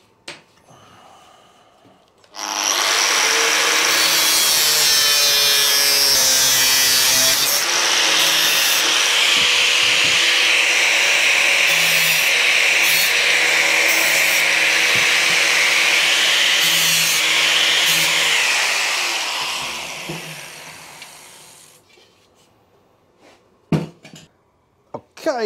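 A power tool cuts and trims a wooden seat base for a BMW project in a loud, sustained grinding whine lasting about twenty seconds. It starts abruptly, then fades and stops, leaving a few clunks in a quiet room.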